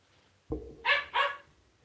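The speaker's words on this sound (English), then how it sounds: "we got a dog barking" A dog lets out two quick, sharp barks close by after a short thump, then quiet.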